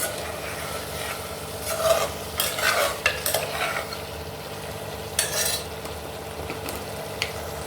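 Garam masala being stirred into a frying chicken biryani masala in a cooker pot, a spoon scraping and clinking against the metal in irregular bursts over a steady low sizzle, close and fairly loud, no voices.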